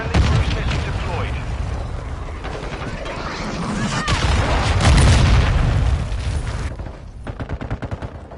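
A cruise missile explodes amid Modern Warfare 2 combat: dense gunfire and booms build to a heavy, rolling blast near the middle, then fade into scattered shots, with voices calling out over the battle.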